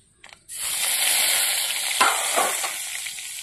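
Bay leaves hit hot oil left from frying potatoes for an outdoor village-style mutton curry, setting off a sudden loud sizzle that holds as a steady close hiss, with a few stirring scrapes and no talk.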